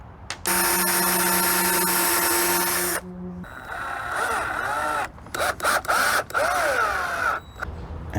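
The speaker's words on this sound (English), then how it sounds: "we're gonna drill 2 holes in each side straight through" A power drill whines steadily for a few seconds, then runs again in shorter bursts with pitch rising and falling as it bites through wood, close up.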